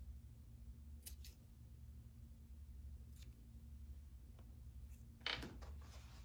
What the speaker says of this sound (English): I'm going to trim all of my threads.